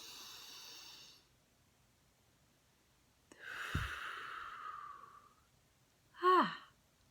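Slow, deep breaths during a guided breathing exercise: a long airy inhale, a pause, a sustained falling exhale like a sigh, then a shorter sharp breath at the end, close and fairly quiet.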